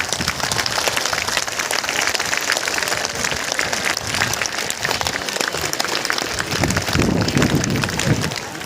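Sustained thunderous applause from a large outdoor crowd at a big spiritual gathering in Mirzapur, a dense continuous wash of clapping that swells slightly near the end.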